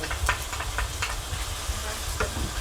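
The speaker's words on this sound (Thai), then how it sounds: "ผัดจนเกือบสุกนะคะแล้วก็ใส่พริกกับกระเทียมที่เราโขลกเอาไว้ลงไปเลย" Pounded chilies and garlic stir-fry in hot oil in a wok with a loud, dense sizzle, while rapid spatula scrapes and clanks repeat close by.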